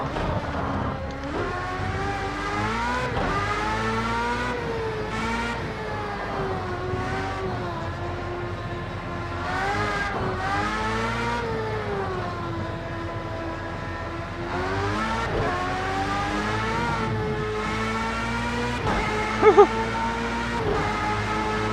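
A race car engine in Project CARS 2 screams at high revs, rising and falling through gear changes as the car runs near 200 mph, steady and loud throughout with no pauses.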